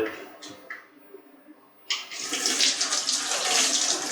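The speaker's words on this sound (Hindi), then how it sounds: "अब हम कोशिश करेंगे इसको धो के" Running water washes a removed filter from a Gree split air conditioner at home, starting with a few light splashes and then a steady, loud gushing stream.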